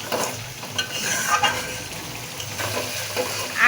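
Mustard-coated poa fish masala stir-fried in oil in a pan, a steady sizzle and frying hiss with scraping stirs throughout, close and fairly loud.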